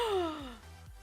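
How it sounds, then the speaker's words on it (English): A person lets out a single dramatic gasp that slides downward in pitch, close and fairly loud over a low steady hum in a quiet indoor setting. "The gasp."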